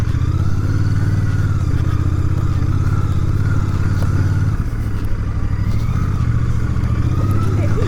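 Royal Enfield Bear 650 motorcycle ridden off-road, a steady loud engine drone with rumbling low exhaust and rattling clatter throughout, close and continuous with no talk.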